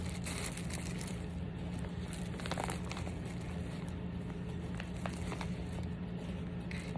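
Continuous crinkling and rustling of a clear plastic zipper bag being handled up close, with scattered sharper crackles throughout.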